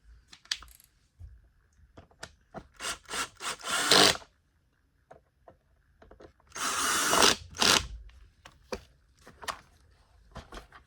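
Screws being driven back into a Bissell Cleanview Rewind Pet vacuum with a power driver, heard as short clicks and whirring bursts in a close, quiet room, with two longer loud driving runs.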